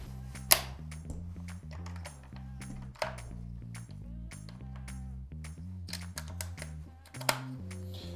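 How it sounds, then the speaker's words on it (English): A cordless 64mm angle bradder, gas and battery fitted and empty of brads, fires with a few sharp, loud snaps spaced seconds apart over steady background music. "we'll fire that, actuate it without any brads in it to enable this piston inside to reset itself"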